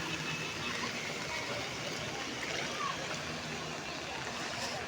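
Heavy rain floods an area with standing and flowing water, including an underground space. A steady, dense wash of water and rain fills the air continuously, loud and close, with no distinct voices.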